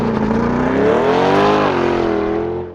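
A 2020 C8 Corvette accelerates hard, its engine note climbing steadily in a loud, close roar for a few seconds before easing slightly, with no talking.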